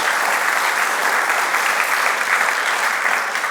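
Loud, sustained applause from a church congregation, dense and even clapping from many people filling the space without pause.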